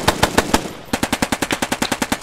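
Rapid machine gun fire in a military video game: about twenty sharp, evenly spaced shots in two bursts split by a brief pause, loud and close, with no voices.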